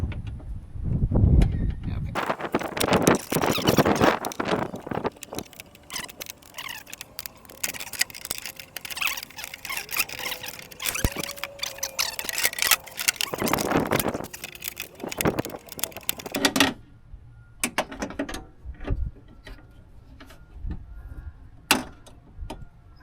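A ratchet wrench turns a bolt inside the door of a 2014–2019 Chevrolet Silverado, giving close, repeated clicking bursts mixed with knocks and handling noise, with brief pauses between runs of clicks.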